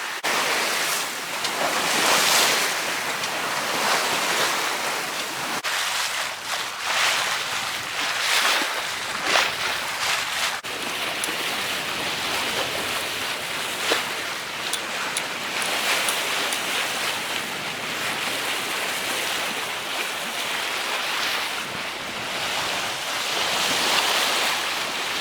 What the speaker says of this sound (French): Il y a des grosses vagues et ça bouge pas mal.